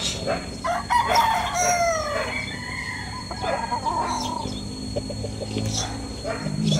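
Gamefarm broodcock roosters crowing at a farm, a few loud nearby cock-a-doodle-doo calls early on, then quieter crows and clucks in the background.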